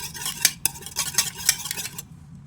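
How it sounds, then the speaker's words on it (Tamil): Wheat cake batter beaten by hand in a bowl, quick rhythmic whisking with sharp clinks of the utensil against the bowl for about two seconds before it stops. "இந்த மாதிரி நல்லா அடிச்சுக்கோங்க."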